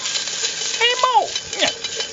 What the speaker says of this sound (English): I'm just kind of stirring this up and getting it, getting it browned